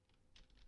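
A few soft keystrokes tap quickly on a computer keyboard as a short command is typed, close and faint, ending in one sharper click.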